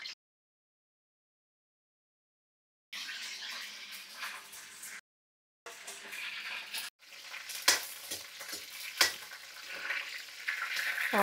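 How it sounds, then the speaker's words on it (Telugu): Green chilies and curry leaves fry in hot oil, with a steady crackling sizzle and a few stirring clicks. The sizzle begins after about three seconds of silence, drops out briefly, then returns louder and busier. "పచ్చిమిర్చి, కరివేపాకు ఆయిల్లో వేసేసాము"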